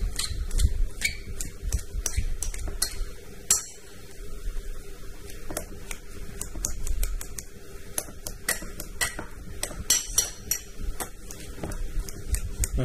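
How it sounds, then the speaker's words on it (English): A fork mashes cooked potato in a bowl that is turned round and round while making fishcakes, producing quick irregular clicks and clinks of metal on the bowl over a quiet background. "Just spinning the bowl round and just forking the potato to get the bigger lumps out."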